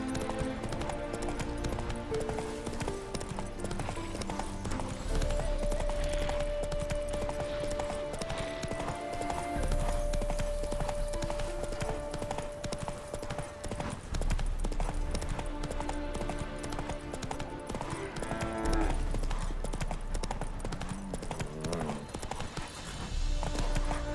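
Horse hooves clip-clop at a gallop in The Witcher 3: Wild Hunt, a continuous rhythmic hoofbeat running under the game's music and ambience for the whole stretch.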